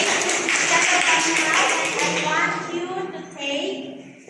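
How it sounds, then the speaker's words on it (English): A classroom of students gives a round of applause, dense clapping and a few voices rising together, loud and close before fading as the room settles. "give yourself a round of applause"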